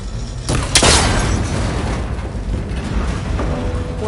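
In Horizon Forbidden West, a shot strikes a cable connector on an ancient, rickety tower and it breaks with a loud, sharp burst and boom, after which a rumbling crackle fades out.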